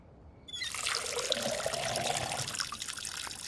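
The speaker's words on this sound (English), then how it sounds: "And now we can water." Watering a freshly sown seed in the video game Schedule 1 gives a steady trickling pour of water that starts abruptly after a half-second pause and runs evenly, close and fairly quiet, with no voices.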